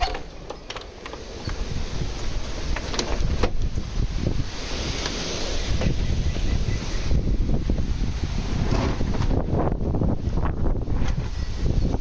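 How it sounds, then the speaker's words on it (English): Strong wind roars and buffets the microphone in uneven gusts, with rustling in the background throughout. "It has been windy as all hell."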